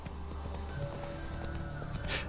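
Hooves of a horse clip-clop at a steady walking rhythm in The Witcher 3, close and continuous under game ambience.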